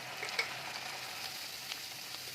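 Dal with Kashmiri chilli powder and spices cooks in a pan, giving off a soft, steady sizzle with faint stirring ticks and no voices.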